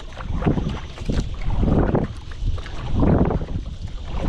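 Paddle strokes on water from a small boat out fishing, soft splashes and sloshing repeating in an uneven rhythm, close by, with wind noise buffeting the microphone throughout.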